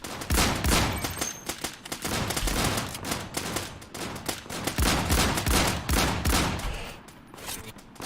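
Rapid gunfire from a Desert Eagle pistol crackles in the Islands of Nyne shooter, loud, close shots in quick irregular runs with only brief gaps.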